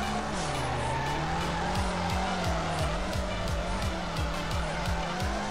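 A Nissan Silvia S15 drifts in the FR Legends racing game, its engine droning steadily while tires squeal in repeated rising and falling bursts, loud and continuous throughout.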